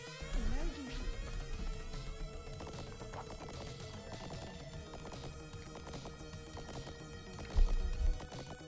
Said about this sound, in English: Is it a metallic fox or wolf on a robotic horse with evil eyes? Tap tap.